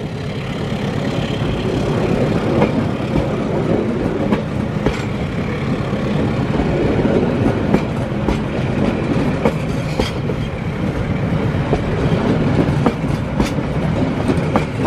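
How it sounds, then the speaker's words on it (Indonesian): A long ten-car passenger train climbs uphill, rumbling steadily and heavily, wheels clattering and engine droning throughout, close by and loud with no break. "Membawa 10 kereta dan diajak nanjak seperti ini ya."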